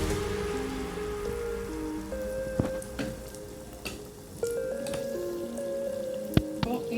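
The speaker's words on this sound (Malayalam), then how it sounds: "ചൂടായ എണ്ണയിലോട്ട് ഇത് ഒഴിച്ച് കൊടുക്കുന്നുണ്ട് കേട്ടോ" Vaazha pathiri batter poured into hot oil crackles and sizzles softly with faint bubbling pops, under a steady low hiss and a few sharp clinks, fairly quiet overall.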